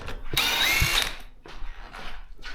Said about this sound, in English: So now the thing we have to do is remove these screws, and then the side panel can come off.